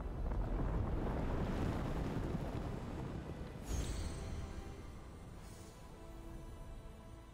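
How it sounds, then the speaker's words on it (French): Icy wind gusting across a mountain summit in Immortals Fenyx Rising, a steady, full rushing roar that eases slightly toward the end, with no voices. "Alors qu'un vent glacé sifflait dans ses oreilles, Phénix contempla l'imposant sommet."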